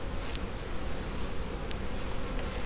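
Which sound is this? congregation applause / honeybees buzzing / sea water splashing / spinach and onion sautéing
honeybees buzzing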